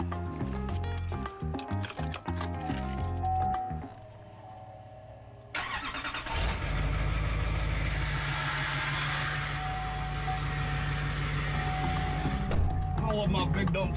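A Duramax dually truck engine cranks and fires, then settles into a loud, deep idle close by, with a brief pause before the start and voices talking over it.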